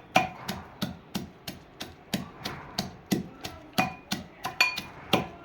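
Cumin seeds and salt pounded coarsely, likely with garlic, for a village-style bhakri: a steady run of about fifteen sharp, close thuds with a faint ringing clink on some strikes, evenly spaced and alone.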